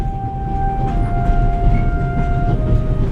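Steady rolling rumble of a freight car on a train in Switzerland from The Raven: Legacy of a Master Thief, with a constant low mechanical hum and faint tonal whine carrying on throughout, loud and close.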